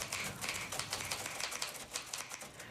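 Rapid typewriter typing clatters in quick, uneven bursts of sharp key strikes, a close, busy office-like rattle that carries on without pause and with no voices.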